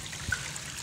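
Water runs steadily from a hose draining a pool, a close, even rushing trickle with a small splash partway through the short stretch.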